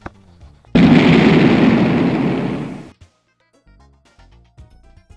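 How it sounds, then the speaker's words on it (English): Bob-omb blowing up in the Hotel Mario video game, a sudden loud blast that roars for about two seconds and then fades, set between quieter game sounds. "Managed to get away from the explosion."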